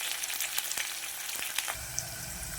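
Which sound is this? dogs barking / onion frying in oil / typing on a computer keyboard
onion frying in oil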